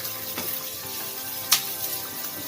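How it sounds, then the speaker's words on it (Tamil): Onions sizzle and fry steadily in a pan for a village-style dried fish curry, a soft continuous crackle with one sharp spatter partway through, close and alone without voices. "இப்போ இந்த வெங்காயம் நல்லா வதக்கிக்கலாம். வெங்காயம் வதங்கிட்டு இருக்கு."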